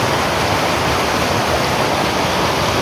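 Strong water rushing through a village stream, a dense, steady roar that continues unbroken and loud throughout, with no voices.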